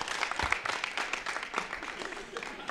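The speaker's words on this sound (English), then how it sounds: "let's hear it for Tyree" An audience applauds a girls' basketball player at a Freehold Township award presentation, giving steady, moderately distant clapping that lasts the whole stretch with no talk on top.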